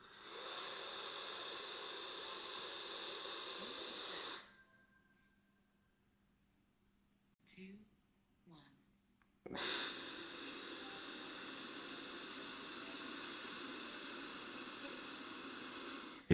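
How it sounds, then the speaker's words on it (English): Breath is drawn through a Lumen handheld metabolism device as a steady, airy hiss, broken by a near-silent pause with a couple of faint puffs before the hiss resumes. "you inhale through the Lumen, and there's a little ball on the screen that you have to get into the circle"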